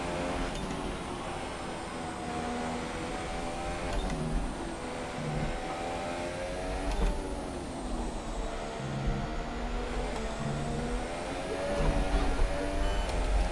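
A Haas Formula 1 car in F1 2017 races at the USA Grand Prix, its engine whining steadily under throttle with harmonic pitch sweeps at each gear change, loud and continuous.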